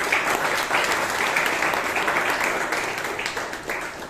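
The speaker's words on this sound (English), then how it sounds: "A round of applause for this wonderful speech." A Toastmasters meeting audience in Bangalore applauding after a speech, a loud, dense burst of clapping that holds steady and tapers slightly toward the end.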